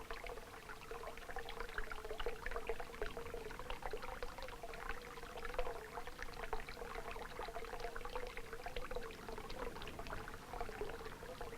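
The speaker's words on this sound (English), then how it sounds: "And the trickle of that water." Spring water trickles and splashes constantly inside a farm milk shed, a soft, even, continuous running with no voices.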